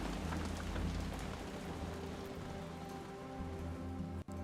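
Steady rain falls in the WW1 strategy game War Hospital, a dense, even hiss of drops hitting surfaces alongside a low background drone, with one brief dropout near the end and no talking.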